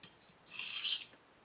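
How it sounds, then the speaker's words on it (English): A knife edge is drawn once across a DMT extra fine diamond sharpening stone to deburr it, producing a single close, quiet abrasive rasp about half a second long, with nothing else around it. "I'm going to go ahead and deburr a couple times on this stone."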